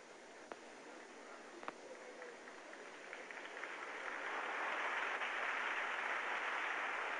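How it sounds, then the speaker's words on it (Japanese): Applause rises for a gymnast's one-handed handstand at the 1979 Spartakiade, starting thin and swelling into a broad, sustained roar of a large crowd clapping, heard from a distance with a hissy old-recording quality. "彼女の片手倒立に大きな拍手が沸きました。"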